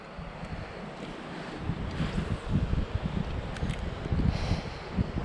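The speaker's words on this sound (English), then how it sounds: "Boy, that wind is blowing." Gusty wind buffeting the microphone on open water while fishing for crappie, a rumbling low roar that rises and falls in surges, with lapping water beneath and no talking.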